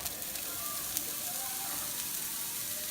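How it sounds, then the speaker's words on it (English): Onions sizzling in olive oil in a hot pan, a steady close hiss of frying with faint crackles throughout. "I'm gonna put just a little bit of olive oil in there. And I'm gonna put my onions,"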